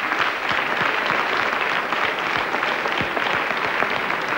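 An audience claps steadily and loudly at the Slovenský Slávik 1996 awards ceremony, a dense, continuous wash of hands with no break.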